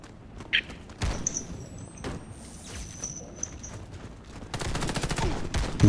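Gunfire in a video game as an enemy shoots through a window: scattered sharp shots and a faint whistle over a murky background, then a denser rattling burst near the end, with muffled voices.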